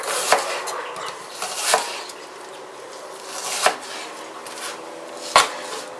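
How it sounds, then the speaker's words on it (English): Four sharp knife chops through onions on a cutting board, spaced irregularly, close and fairly loud, with quiet rustling between strikes. "you just start chopping your onions, I'd say medium fineness"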